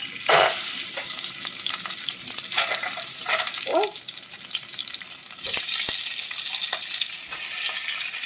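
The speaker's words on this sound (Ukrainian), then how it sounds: "Вливаю трошки олійки і буду смажити м'язко" Loud crackling sizzle of chicken pieces, including wings, frying in hot oil, continuous with sharp pops and spits, plus a brief exclamation and a few clanks.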